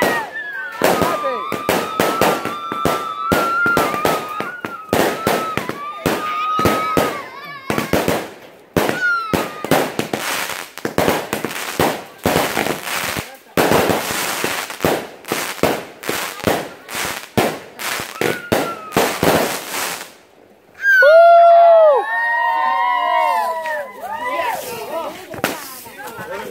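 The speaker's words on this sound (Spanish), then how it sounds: "Allá hay fuego, allá hay cohetes todavía." Dense crackling fireworks at midnight on Christmas in El Salvador: rapid sharp bangs and pops in irregular bursts for about twenty seconds, then quieter, with a voice briefly calling out in Spanish near the end.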